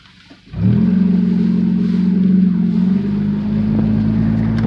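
A Chevrolet Cavalier engine starts and settles into a steady, close drone on the drive to work, with a slight drop in pitch partway through and no talking.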